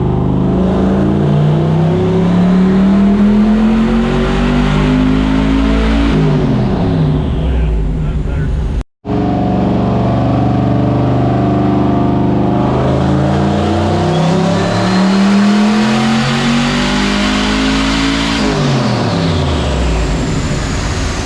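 A turbocharged LS-powered Chevrolet El Camino revs hard on a dyno, its loud engine rising in repeated sweeping pulls with a brief cut partway through, and a voice speaks over the roar.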